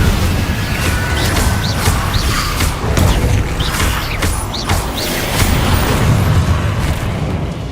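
Fire spell effects cast repeatedly in Hogwarts Legacy, a dense, loud roaring whoosh of flames with rumbling bursts layered over a continuous busy game soundscape, no talk.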